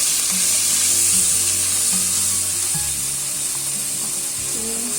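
Ginger fries in a pan with red chilli, turmeric and ground cumin for a potato and okra curry. The oil gives a steady, close sizzle with a faint low hum beneath it, and no talking.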